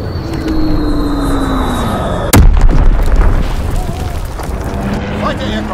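A bomb drops and detonates in Call of Duty WW2 multiplayer, one sharp, heavy explosion booming over a steady drone of aircraft and battlefield noise, with a radio-style voice announcing over the action.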